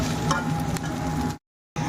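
Egg being stirred into chow mein in a hot frying pan, a steady close sizzle with scraping stir strokes, cutting off abruptly near the end before resuming.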